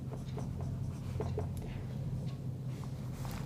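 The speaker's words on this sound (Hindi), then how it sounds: "इसे एक स्टेप और लिख ले" A pen scratches out another line of a maths solution in short, soft strokes, faint over a steady low room hum.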